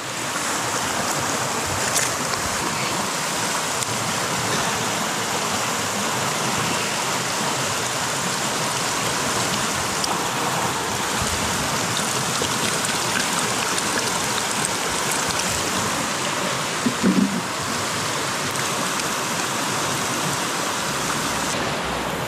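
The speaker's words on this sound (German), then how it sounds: "So, jetzt zum Schluss noch Flasche auffüllen und dabei noch was trinken." Clear freshwater stream rushing steadily while a bottle is filled outdoors, a continuous broadband wash of water close by with a brief gurgle near the end, no talking.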